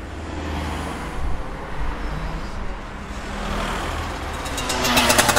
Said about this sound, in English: It is a small motorbike in a traffic situation with mostly cars.